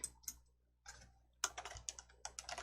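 Someone types a home URL on a computer keyboard, heard as quick bursts of close, crisp key clicks with a short pause partway through and then a faster run of keystrokes.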